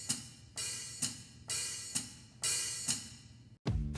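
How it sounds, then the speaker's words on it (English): Electronic hi-hat on a Donner DED-200 kit, played with both foot pedal and sticks: a steady run of bright, crisp open hits roughly every half second, each fading before the next, ending in a short low closing thump, with no talking. "when you combine both the foot and playing the hi-hat"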